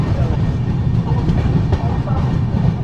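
Train 12791 running from Peddapalli Junction: a steady low rumble of rolling rail wheels heard from on board, with faint rhythmic clicks.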